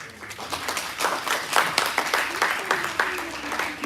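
An audience claps at a Dogri poetry recital, with a dense, steady burst of applause lasting throughout at close range and fairly loud.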